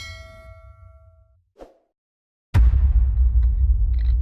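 A bright bell ding used as a subscribe-reminder sound effect rings and decays, followed by a short click, silence, then a sudden loud rumbling swell.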